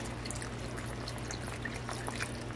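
Vegetable broth poured from a cup into a pot for a Moroccan dish, a steady, continuous liquid pour lasting a few seconds over a low background hum, close and fairly quiet with no talking.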